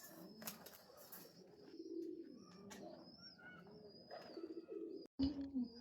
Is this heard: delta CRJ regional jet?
no